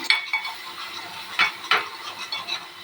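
Misal masala and salt being sautéed in a pan: a few distinct spoon scrapes and taps against the pan, with a soft sizzle underneath, nearby and fairly quiet.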